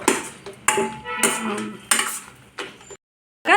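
Green chillies and onions frying in a pan, heard as loud, close metal clatter and scraping from a spoon stirring against the pan, with a soft sizzle underneath, then a brief pause.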